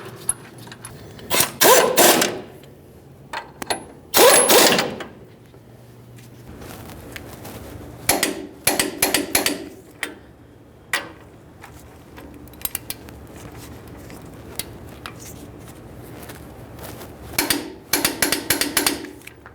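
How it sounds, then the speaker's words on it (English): Clicks of a wrench or ratchet snugging the brake caliper bracket mounting bolts on a 2015-2020 Ford F-150 front brake, coming in short bursts of metallic ratcheting separated by pauses, close up and without speech. "Go ahead and start each of these mounting bolts in. Once they're bolts started, you can snug them up."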